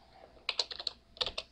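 Typing on a computer keyboard during a logo design session: two quick bursts of clicky keystrokes, about five taps then three, close and fairly loud with no talk.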